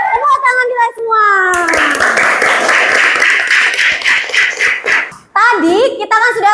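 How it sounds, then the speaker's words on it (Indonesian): Children clap their hands in a classroom, first a run of fast rhythmic claps and then a sustained burst, while young voices chant and sing over the clapping. "Tepuk tangan kita semua."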